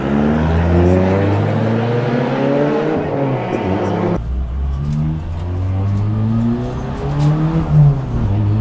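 Renault R21 Turbo Europa Cup front-wheel-drive race car, about 300 hp, lapping a busy track: loud in-cabin engine drone rising and falling through gear changes, with tire noise and someone talking over it.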